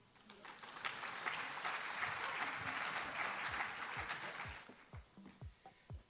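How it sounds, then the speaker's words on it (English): Audience applause at a business empowerment awards conference, a steady dense wash of clapping that fades toward the end into a few scattered, louder individual claps. "Another round of applause, if you will"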